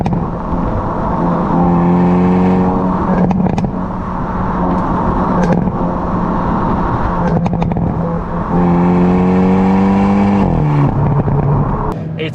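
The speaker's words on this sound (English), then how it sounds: "you can hear that exhaust going absolutely bananas out there" A 2022 Hyundai Kona N, 213 kW, accelerating hard under launch control, its exhaust droning loudly with rising engine pitch, two sweeping upshift climbs and crackles between gear changes, heard close from inside the car.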